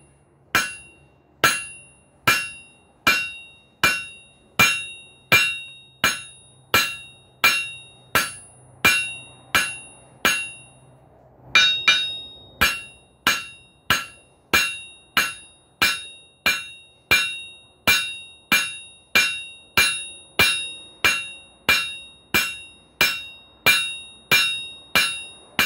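Hammer blows flattening a 5/8 inch round steel bar, heard as a long run of sharp, ringing metallic strikes at a steady, brisk pace, each with a bright decaying ring, with a short pause partway through.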